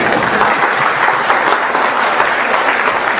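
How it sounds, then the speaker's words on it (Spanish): A loud, dense round of clapping from a church audience greets a child, sustained and even throughout with no voices on top. "un aplauso para ese niño"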